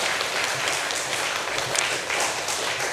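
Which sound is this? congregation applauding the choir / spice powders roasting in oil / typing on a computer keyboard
congregation applauding the choir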